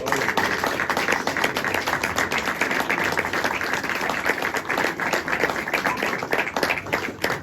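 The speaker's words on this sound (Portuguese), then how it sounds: "Você pode dar um aplauso para o Senhor?" A church congregation at a New Year's service applauds in steady, dense clapping throughout, moderately loud and continuous with no pauses.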